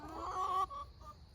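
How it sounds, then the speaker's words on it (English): A chicken gives a short, faint cluck close by outdoors on a farm at feeding time, a brief throaty call that quickly fades. "This is out feeding the chickens"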